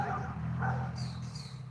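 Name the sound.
dogs barking outside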